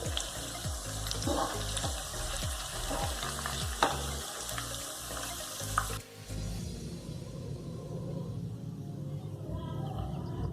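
Burger patties frying in a pan, a steady loud sizzle with stirring and scraping clatter, shifting partway through to a softer bubbling sizzle.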